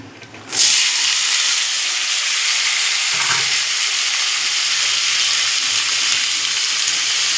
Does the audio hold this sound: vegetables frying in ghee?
yes